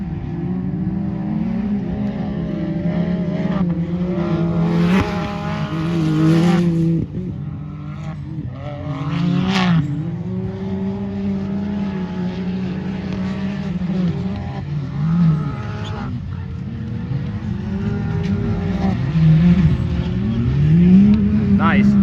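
Short course RC race cars racing and jumping on a track, with whining motors rising and falling in quick revs and occasional skids, heard continuously under excited commentary from people talking.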